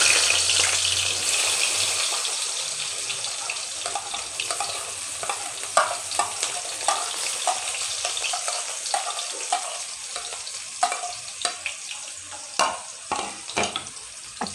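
Onions frying in oil in a pot for restaurant-style beef paya: a steady close sizzle with scattered crackles and stirring clinks that grow sharper toward the end, with no talk.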